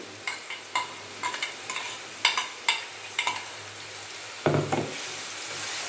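Vegetable cutlet mixture fries in a pan: a steady sizzle runs underneath while a spatula scrapes and taps the pan again and again in an uneven rhythm, close and clear, with no talking.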